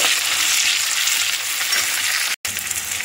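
Continuous frying sizzle with soft scraping of a small tomato being stirred into frying onions in a pan, close and steady, broken by a brief cut near the end.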